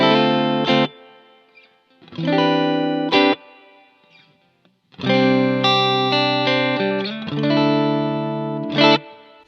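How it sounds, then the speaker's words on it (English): Guitar through a BluGuitar AMP1 played direct with its built-in reverb turned up to about 4, ringing chords in separated bursts with sustained tails fading between them, clean and close. "So let's add in a little bit of the built-in reverb."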